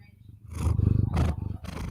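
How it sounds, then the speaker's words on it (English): A cat purring right up against a microphone: a loud, close, low rumbling purr pulsing steadily in rhythmic waves for about two seconds, with no talk over it. "She is purring a lot."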